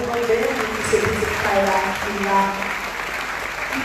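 Steady applause rolls on under a voice speaking over it at a Sunday church worship service.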